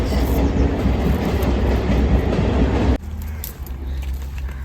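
A train rumbles past on the Uran railway line above a muddy fishing spot, a loud continuous roar with clattering wheels that drops abruptly to a quieter rolling rumble partway through.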